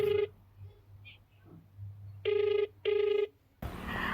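Telephone ringing in short electronic bursts, one brief ring then two longer rings in a row, close and clear against a quiet room, cut off by a louder burst of noise at the end.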